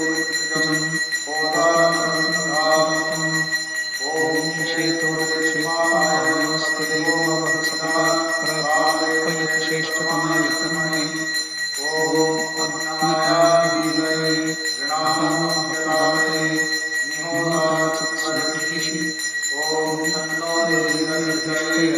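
A small handbell rings continuously through a Krishna Ashtami puja, a steady high shimmer behind rhythmic, repeated phrases of chanting voices.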